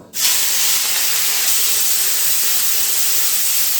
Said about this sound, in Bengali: বড়িগুলো তুলে নেবার পর ওই তেলের মধ্যে ভেজে নেব এই চিংড়ি মাছগুলো